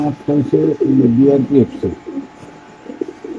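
Soft, low pigeon coos sound close by, mixed in with someone talking over them.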